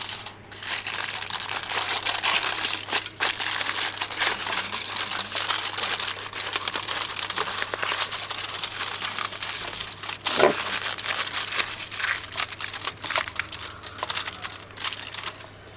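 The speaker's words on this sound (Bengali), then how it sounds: "ফয়েল পেপার দিয়ে মোল্ডের মুখটা খুব ভালোভাবে বদ্ধ করে দেব।" Foil paper crinkles and crushes steadily as it is pressed over the mouth of an ice cream mold, a continuous close rustling that runs almost unbroken throughout.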